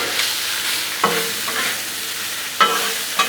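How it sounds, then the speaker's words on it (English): Shrimp, peas, carrots and onions sizzle on a Blackstone griddle while being stirred. A steady frying hiss runs throughout, with sharp spatula scrapes and taps every second or so, loud and close, with no talking. "Now just come in here and stir everything up."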